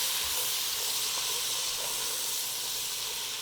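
About three tablespoons of butter sizzling in hot bacon grease in a soup pot, a steady close bright hiss that holds evenly throughout with no voices.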